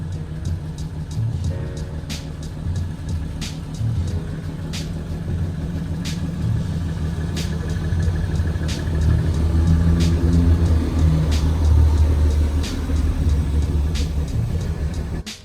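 A lowered Toyota Cressida backs out onto a street, its engine a steady close rumble that swells slightly midway, with no talk over it.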